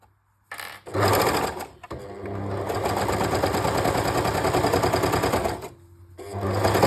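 A sewing machine stitches jersey underwear in long, steady runs of rapid needle chatter. Brief pauses fall between the seams, and the stitching is loud and close with no talk.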